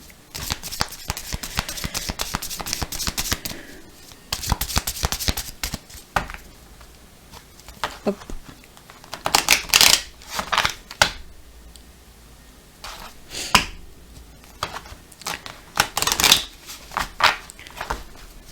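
Oracle cards being shuffled by hand, a steady run of close, crisp riffling and slapping card sounds that comes and goes in bursts over a long stretch.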